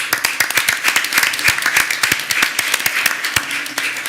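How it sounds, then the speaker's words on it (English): Attendees at a school district board meeting give a round of applause, a close, loud patter of many individual claps overlapping into steady clapping for several seconds. "applause."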